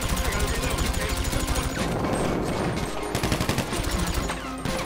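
Rapid bursts of automatic gunfire crackle in the video game GTA 5, dense, loud, repeated shots overlapping in a continuous firefight with no pause.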